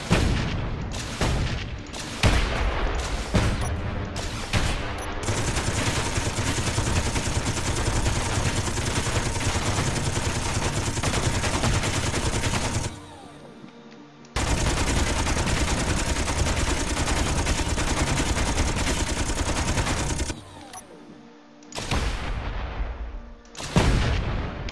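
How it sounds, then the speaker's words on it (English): Rapid automatic fire from Gatling guns mixed with rocket blasts in the space game Space Engineers, loud and continuous in sustained bursts with short gaps between volleys, and no talking. "It has Gatling guns"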